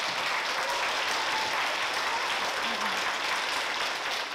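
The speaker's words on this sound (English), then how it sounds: "give your teacher, your schools, and Upper Valley Friends of the Vermont Symphony a great big round of applause" An audience at a live-streamed school concert with the Vermont Symphony applauds in sustained, dense clapping that holds steady and loud throughout, with a voice faintly underneath.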